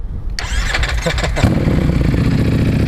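A custom V4S motorcycle engine cranks briefly, then catches and settles into a loud, close, rumbling idle.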